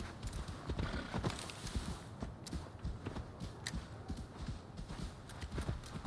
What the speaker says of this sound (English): Summoning a horse mount is not available.